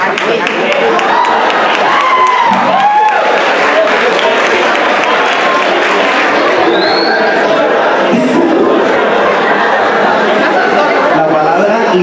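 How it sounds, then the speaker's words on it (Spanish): A crowd at a costume event applauds a guest in a homemade costume, with sustained clapping, cheering and chatter that stays loud and full for the whole stretch. "Un aplauso para él."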